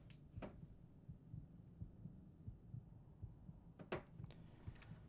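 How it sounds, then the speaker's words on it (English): A heart beating in a Skyrim mod video game thumps in a steady, muffled, low rhythm, faint and close, with a few sharp ticks over it. "I hear a heart beating."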